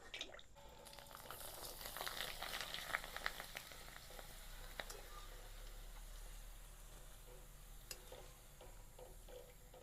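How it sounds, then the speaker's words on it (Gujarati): Bhungala fryums fry in hot oil for Kathiyawadi garlic potato bhungala, giving a steady, soft sizzle and bubbling with occasional light clinks, alone throughout. "આપણે ભૂંગળા તળી નાખવી"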